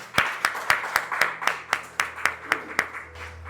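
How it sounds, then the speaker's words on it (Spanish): A church congregation claps for the children in a crisp, rhythmic beat of about a dozen sharp claps in unison, evenly spaced over a low background hum. "Démosle un aplauso a estos niños"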